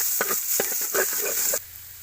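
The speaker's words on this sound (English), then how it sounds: "We start to fry our soybean with fish" Soybeans and fish fry in hot oil with garlic, giving a loud, dense sizzle with stirring scrapes and bursts of spattering that drop to a quieter hiss near the end.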